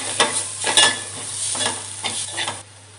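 Ginger-garlic paste stirred into food frying in a pan for a Konkan dried prawn recipe: a continuous nearby sizzle with several distinct spatula scrapes at irregular intervals.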